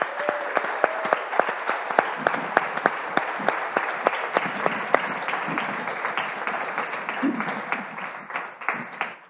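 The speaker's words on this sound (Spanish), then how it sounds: "Let's give them a hand" A church congregation applauds in a steady burst of dense clapping for about nine seconds, with a few sharper claps standing out near the start, then fading toward the end.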